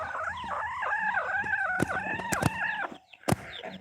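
A chicken clucks in a continuous run of rhythmic, close, wavering calls out in the woods, broken by a few sharp clicks and thumps near the end.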